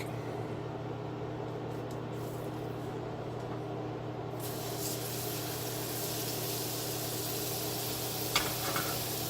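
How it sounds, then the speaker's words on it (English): A steak searing in a pan of melted fat with pink Himalayan salt, a steady sizzle over a low hum that brightens and strengthens midway, with a brief clatter near the end and no talking. "And next we're going to put in the steak."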